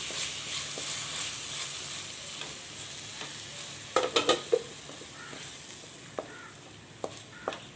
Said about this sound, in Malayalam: കൊച്ചുള്ളി ചതച്ചത് ഇട്ട് കൊടുക്കാം